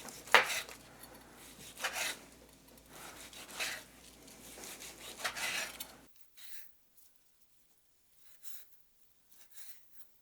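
Knife cutting chuck roast into cubes for chili on a board, several close scraping and tapping strokes over about six seconds, then near silence with a few faint clinks.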